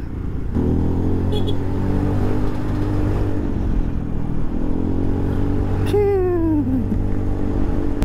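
A Vespa automatic scooter rides along a road on a long-distance tour, its steady engine drone and wind rumble continuous and loud, with a brief descending whine near the end.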